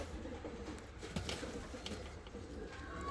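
Imported Lark postal pigeons, a big-bodied male and female pair, give steady low cooing up close, a continuous throaty rolling murmur with a few soft rustles.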